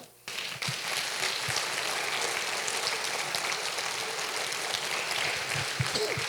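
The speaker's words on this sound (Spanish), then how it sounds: "Den un aplauso al Señor." Church congregation applauding during a sermon, a steady wash of many hands clapping at moderate distance, continuous and fairly faint, without speech over it.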